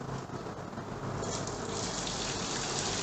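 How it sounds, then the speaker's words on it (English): Water poured quickly into a plastic bottle punctured with holes, a steady rushing gush with spurting streams, continuous and fairly loud with no talking. "I'm going to pour the water in to this bottle as quickly as possible, and I want you to observe how the water flows out of all these holes"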